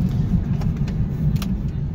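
Vehicle engine idling steadily with a loud, continuous low rumble, close by, with faint light clicks or rattles on top.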